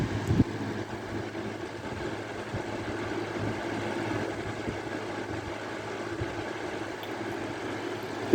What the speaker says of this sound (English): Like a lot of these earlier pedal blade Laskos, this one has that constant whirring sound of the blades.